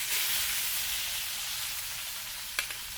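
A seasoned steak sears in a very hot skillet with olive oil and butter, a steady loud close sizzle with a brief extra crackle near the end.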